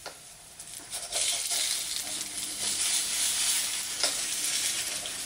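Eggs frying in a pan give a steady, close sizzle that swells after the first second and holds loud and continuous, with faint crackles throughout and no talking.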